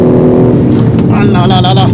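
BMW M4 G82 Competition braking hard from 230 km/h on a straight, loud engine note dropping with a sharp burst of downshift crackles and pops near the end, with a voice talking over it.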